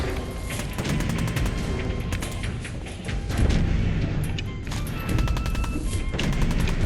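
Rapid bursts of pistol gunfire boom continuously in a Fallout video game, dense repeated shots and impacts layered over a loud, busy game soundscape.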